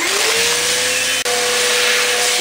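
A household vacuum cleaner draws air out of a Mylar food storage bag, a loud, steady close-up roar with a rising pitch as the bag empties and a brief dropout midway.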